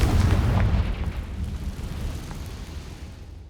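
A Confringo fire spell bursts in Hogwarts Legacy with a loud, deep explosive boom that rumbles and slowly fades over a few seconds.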